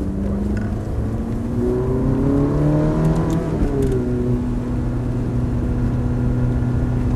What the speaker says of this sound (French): Allez, on accélère un petit peu